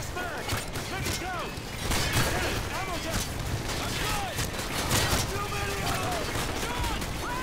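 Rapid gunfire crackles in Call of Duty MW2, with repeated bursts of shots and mechanical clatter running steadily through the clip over constant battle noise.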